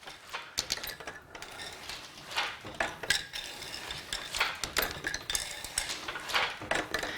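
A Louet floor loom in use, with its wooden frame clacking and shuttle and beater knocking in a steady, repeating rhythm, close and fairly loud, with no talking.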